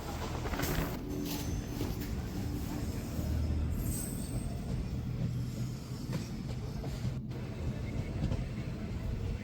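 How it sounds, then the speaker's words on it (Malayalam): A passenger train rolls steadily through open farmland, its broadband rumble and rail noise continuous and close throughout, with faint squeals from the wheels. "വിശാലമായ കൃഷിയിടങ്ങളിലൂടെയാണ് ട്രെയിൻ സഞ്ചരിച്ചുകൊണ്ടിരിക്കുന്നത്"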